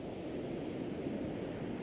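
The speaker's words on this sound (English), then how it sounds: "Yep, got some nice curly-whirly waves." Ocean waves break on a gloomy seashore in a constant roaring wash, mixed with heavy wind buffeting the microphone, with no voices.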